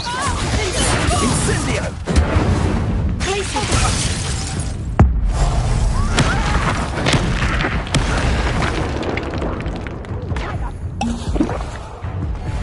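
The Incendio fire spell is cast in a Harry Potter video game amid dense combat noise, with booms, crashes and impacts overlapping through the scene and voices shouting in the clip.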